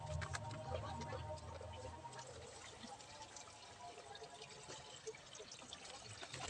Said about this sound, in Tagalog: mag-andam lang ta og pangsalod sa tubig sa gikan sa radiator